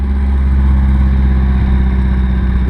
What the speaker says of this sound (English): It's idling real smooth.